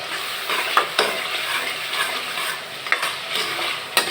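Chopped onion with garam masala, bay leaves, cardamom, cinnamon and black pepper frying in oil for beef curry, a steady close sizzle with a spatula stirring and scraping against the pan several times.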